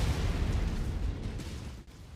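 Mech weapons in MechWarrior 5, including an AC-20 autocannon on a Hunchback, fire in heavy booming bursts that rumble and overlap, with explosions rolling on loudly before a brief drop near the end.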